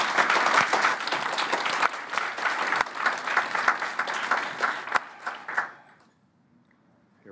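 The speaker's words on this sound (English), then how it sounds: "Please join me in a round of applause for all of our presenters." An audience at a lightning talks event gives a sustained round of applause for the presenters, dense clapping that thins out and stops, leaving near silence.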